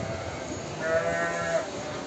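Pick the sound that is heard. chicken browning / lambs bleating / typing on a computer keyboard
lambs bleating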